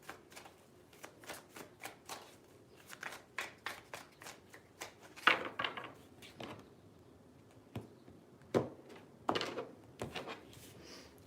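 Tarot cards are shuffled at close range in a quiet room, with a run of quick papery flicks and riffles followed by a few sharper, louder card slaps; no voices.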